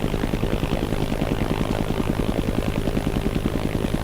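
Helicopter in ArmA: Armed Assault spinning in circles, its rotor thudding in a steady rapid pulse under a constant engine drone, loud and close throughout.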